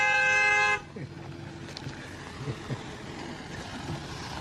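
A car horn sounding in a village in French Polynesia, one loud, close, sustained honk of under a second that cuts off, leaving quiet outdoor ambience.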